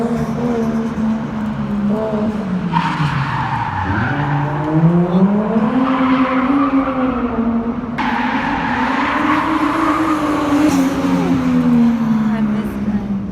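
Cars drift along a Tokyo street at midnight with sustained, wavering engine revs and screeching tire squeal, the pitch swooping up and down as they slide; voices murmur in the background.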